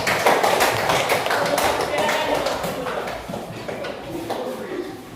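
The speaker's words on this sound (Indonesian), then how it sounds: "Kasih aplaus dulu" A classroom group gives a round of applause, many hands clapping briskly and loudly, then gradually thinning out, with some voices underneath.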